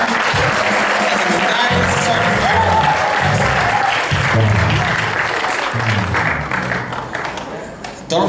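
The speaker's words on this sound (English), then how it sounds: "Can you clap your hands for family here?" Church congregation at an African ministry service claps hands together, a continuous crowd clapping layered with voices and music throughout.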